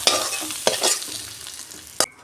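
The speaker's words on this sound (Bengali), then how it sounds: "আমি শিমগুলো সব ভেজে নিয়েছি," Fried green beans are poured out and stirred, giving close scraping and clattering strokes over a soft frying sizzle, ending in a sharp clank; no voices.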